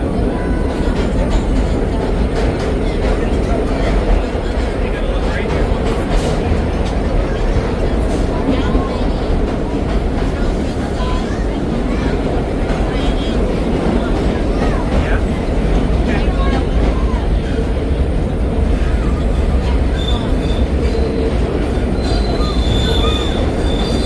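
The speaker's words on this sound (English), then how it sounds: "I just hopped on the Q train" A vintage New York City subway holiday nostalgia train rolls along with constant loud rumbling, rattling and high wheel squeals, heard from inside the car, while faint voices murmur under the steady din.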